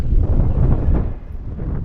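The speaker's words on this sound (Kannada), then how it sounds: "ತುಂಬ ಹೈಟಲ್ಲಿರೋದಕ್ಕೆ ಗಾಳಿ ಮಾತ್ರ ಜಾಸ್ತಿ ಬೀಸ್ತಾ ಇದೆ." Strong wind on the high Adichunchanagiri hilltop in Karnataka buffets the microphone with a heavy, low rumbling roar that rises and falls over a couple of seconds.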